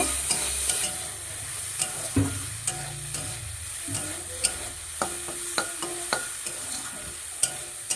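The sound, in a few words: chicken frying and being stirred in pan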